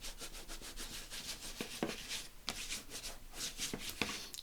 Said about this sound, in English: So just give that a burnish.